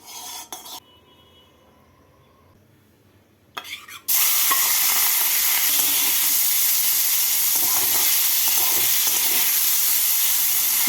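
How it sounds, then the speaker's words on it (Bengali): Shrimp hit hot mustard oil in a wok with a sudden loud sizzle that settles into a steady, close frying hiss, after a few seconds of quieter handling noises. "তেলটাকে ভালো করে গরম করে নিয়ে এর মধ্যে মাছগুলোকে হালকা করে ভেজে তুলে নেব"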